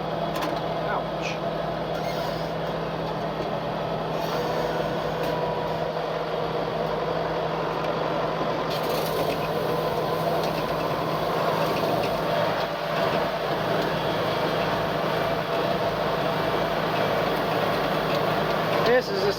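A tractor engine runs in gear while cultivating a field. It gives a continuous, fairly loud low rumble that holds steady throughout, with a voice faintly beneath it.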